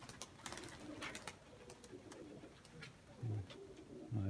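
Pigeons coo softly in a low, rolling murmur near a nest, with a couple of louder cooing phrases toward the end over faint background hiss.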